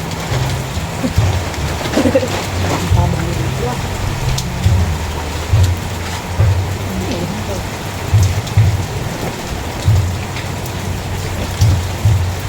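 Steady rain falls around a house, a dense continuous hiss of drops with faint low rumbling underneath, loud and close throughout.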